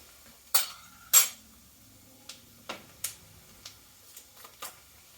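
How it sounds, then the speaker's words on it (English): A spoon clinks against dishes: a few sharp clinks close by, then several lighter taps and rattles spaced irregularly, without talk. "So then let me grab a spoon"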